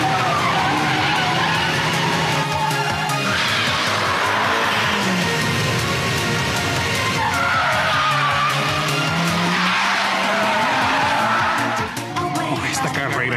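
A race car engine roars and its tires skid through corners in an Initial D anime street race, loud and continuous with swelling revs and long screeching slides.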